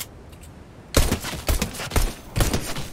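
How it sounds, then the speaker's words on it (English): Gunfire in Fortnite: a quiet start, then a burst of several close, punchy shots in quick uneven succession. "Is that you shooting?"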